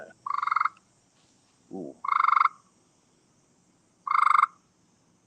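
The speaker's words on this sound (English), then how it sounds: "Do we have a frog?" A frog croaks in three separate bursts, each a short buzzy rattling call spaced a couple of seconds apart, fairly close and clear, with a person briefly murmuring a low exclamation between them.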